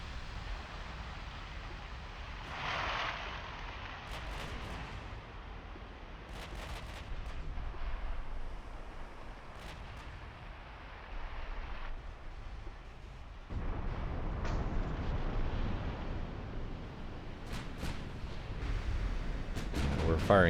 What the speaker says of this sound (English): We're firing HE.